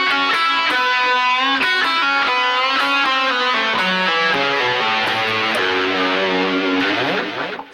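A distorted electric guitar rips through the final phrase of a solo, with fast, dense runs of notes and bends, loud and close, cutting off sharply at the end.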